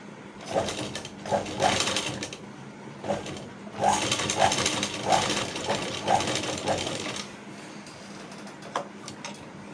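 A sewing machine stitches the neckline of a blouse in a tailoring class, running in close, loud bursts of rapid mechanical clatter with brief pauses between runs and no talk over it.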